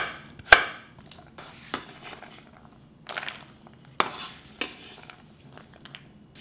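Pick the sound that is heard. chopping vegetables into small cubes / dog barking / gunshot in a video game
chopping vegetables into small cubes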